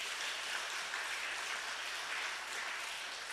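Sustained applause from a church congregation at a Sunday morning service, many hands clapping in an even, unbroken roar that holds steady throughout.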